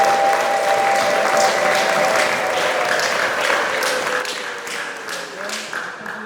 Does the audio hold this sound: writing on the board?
no